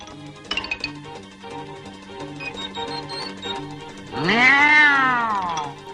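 A single long, rising-and-falling meow from a young cat, clear and close, over a soft musical background.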